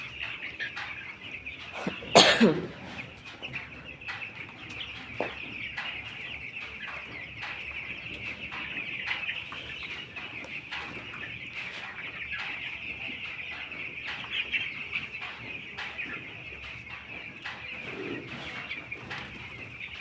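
Steady hens' clucking and chirping fills the background, with one loud sharp burst early on and scattered soft knocks throughout.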